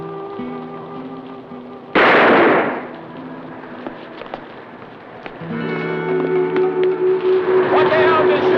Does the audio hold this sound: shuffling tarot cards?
no